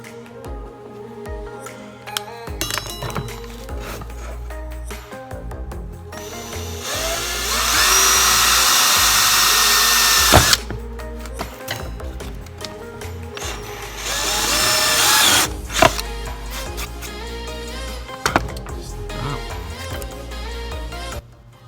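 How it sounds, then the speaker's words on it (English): A power drill whirs loudly in two bursts, a long steady run and then a shorter one, drilling through the middle of a wooden sheaf fork, over a busy background of music and clatter. "you're going to drill through the middle of this"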